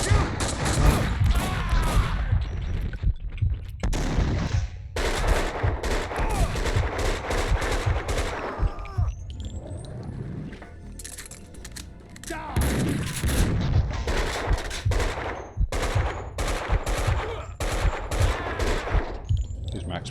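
Dense bursts of gunfire from the Max Payne 2 video game, rapid shots and automatic volleys with heavy thuds, loud and close, with brief quieter gaps between barrages.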